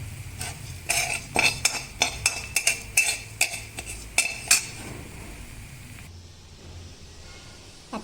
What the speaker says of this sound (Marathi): कढीपत्ता फ्राय होतो आहे तर त्याच्यामध्येच मी हिंग पण घालून घेतलेलं आहे